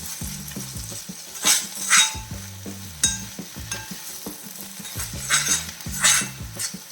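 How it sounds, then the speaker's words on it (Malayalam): Broad beans stir-fried in a pan are tossed and stirred with a spatula, bursts of scraping and clinking over a soft sizzle, with louder scrapes recurring every second or so and no talk. "എല്ലാം കൂടെ ഒന്ന് മിക്സ് ചെയ്യാം"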